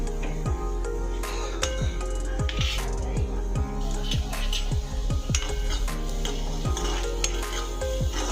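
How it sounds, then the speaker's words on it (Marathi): Onion fries in hot oil with a steady, close sizzle, while a spatula strikes and scrapes the pan in an irregular rhythm. "कांदा आपण यांना चांगला फ्राय करून घेऊया तेलामध्ये"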